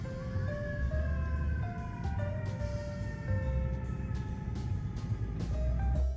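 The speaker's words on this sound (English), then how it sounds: "Not long before we hear sirens." Emergency vehicle sirens wail near Times Square in New York, steady sweeping tones layered over a loud, continuous rumble of city traffic throughout, with no voices.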